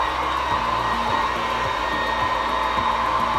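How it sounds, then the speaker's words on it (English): A hair dryer blows steadily and loudly up close, a constant whirring roar with no pauses and no voices. "Mind the back of your blow dryer."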